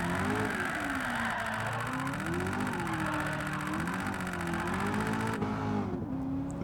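New Corvette engine droning steadily while the car is driven sideways with no driver assists, its pitch rising and falling in smooth waves as the throttle works, loud and continuous throughout.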